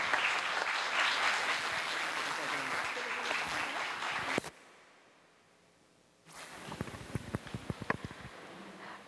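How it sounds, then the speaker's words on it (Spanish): Audience applause at a book presentation, a full wash of clapping that cuts off abruptly into near silence, then resumes as scattered, sharper individual claps. "vamos a brindarles un fuerte aplauso"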